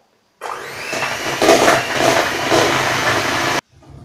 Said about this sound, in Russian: Взбиваем масло.